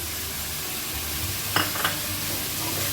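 Goat liver frying in a pan with garlic ginger paste, a continuous close sizzle with a couple of brief stirring clinks near the middle.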